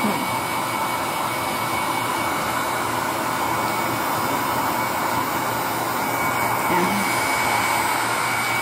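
A hair dryer blows with a steady, loud whooshing hum, close by and unbroken throughout, with no talking.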